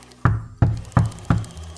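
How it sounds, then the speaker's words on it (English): Four sharp knocks on a door, evenly spaced about a third of a second apart, close and distinct with a short ring after each rap. "she heard the knock at her door"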